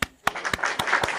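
A small audience of people applauding, a few sharp separate claps that settle into a short, moderately loud round of clapping.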